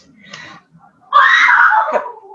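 A young girl playing a game with her cousins screams once in a loud, sustained, high cry lasting about a second, preceded by faint background murmur.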